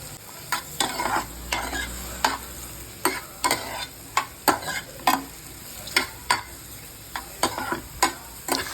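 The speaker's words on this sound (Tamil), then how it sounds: "இப்போ மஷ்ரூம் வந்து அதில் போட்டு நல்லா சாட்டே பண்ணுங்கள் கொஞ்ச நேரம்." Sliced mushrooms sauté in melted butter with a steady close sizzle, while a spoon scrapes and stirs the pan in frequent rhythmic knocks and strokes. Nobody speaks.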